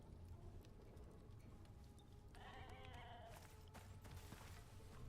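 Sheep bleat in the survival video game Icarus, with a short, bright bleat rising over a steady, busy layer of game ambience.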